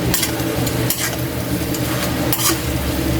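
Octopus adobo sizzling loudly in a pan as calamansi goes in, with continuous close frying crackle and a few scraping stirs from a utensil against the pan.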